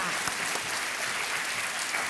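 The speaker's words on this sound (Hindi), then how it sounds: "जोरदार तालियां तालियां तालियां" Studio audience of a television quiz show applauding to welcome a contestant, a dense, loud, steady wash of clapping filling the space without a break.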